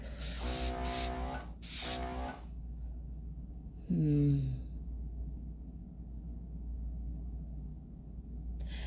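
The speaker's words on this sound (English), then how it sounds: "technically they're drying as they're coming out of the airbrush" An airbrush sprays One Air acrylic paint in two short hissing bursts near the start, close and fairly loud. A brief voice sound follows.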